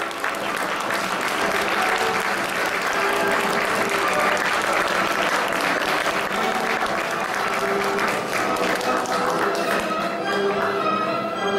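A crowd applauds warmly and continuously at a bodybuilding award ceremony in New Taipei, dense clapping filling the room before tapering off at the end.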